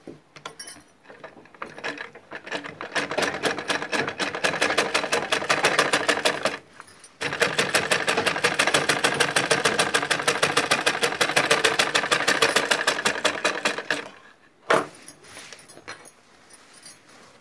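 Sewing machine stitching folded fabric piping for sock-style shoes, a fast steady mechanical rattle running in long bursts with brief pauses between, close and loud with no talking.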